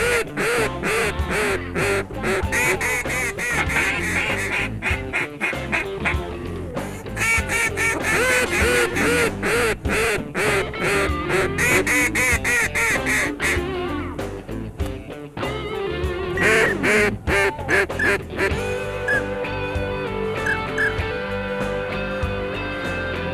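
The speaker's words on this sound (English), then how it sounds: "Well, these ducks are working in here right, Phil." Many ducks quack loudly and continuously during a Louisiana duck hunt, a dense chorus of calls overlapping close by for a long stretch.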